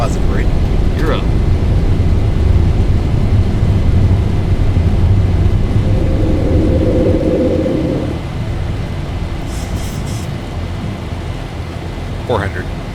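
A Zibo 737-800 taking off and climbing in X-Plane 12, with a steady loud engine roar and rumble throughout while a voice talks over it.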